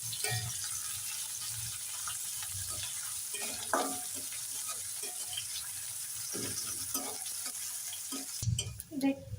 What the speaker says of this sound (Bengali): পেঁয়াজগুলোকে একটু ভেজে নিব, একটু ব্রাউন কালার করে নিব ভেজে